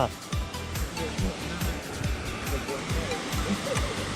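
Water rushing and churning like a waterfall where a village stream has overflowed, a continuous close roar under excited talk.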